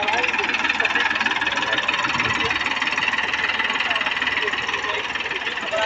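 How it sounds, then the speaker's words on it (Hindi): A Massey Ferguson 7235 DI 35 HP tractor engine runs steadily at a constant drone while pulling a cultivator, a continuous close mechanical rumble with no pauses for the full length. "ट्रैक्टर चल दिया है और कल्टीवेटर पे जम के देख सकते हो।"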